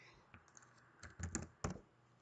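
Short bursts of keystrokes on a computer keyboard, entering a name into font software, come as a few close, quiet clicks clustered in the middle and toward the end.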